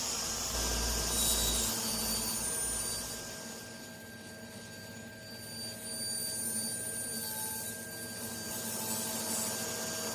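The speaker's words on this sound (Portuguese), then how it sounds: "Vou só aparar isso na serra." A table saw trims a thin strip off wood being cut for a finger joint, giving a steady loud whine that drops slightly in the middle and then rises again as the blade cuts.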